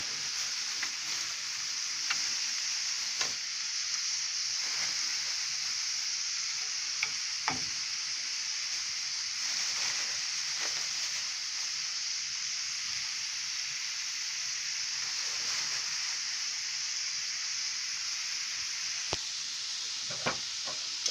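Mushrooms and green onions frying in a pan for breakfast: a continuous bright hiss of sizzling oil, steady and close, with occasional soft taps and scrapes of stirring.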